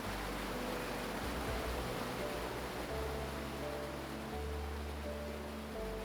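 Waterfall in South Africa, swollen river pouring over the falls, giving a steady, dense roar of rushing water that holds unchanged throughout, broad and loud with no voices.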